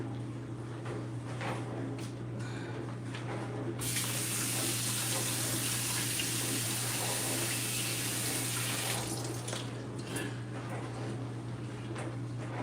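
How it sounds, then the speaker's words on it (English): Tap water runs steadily into a sink and rinses a cutting board, a constant near hiss and splash. It grows brighter and fuller in the middle stretch as the stream hits the board, then eases back. "So let me rinse off my board."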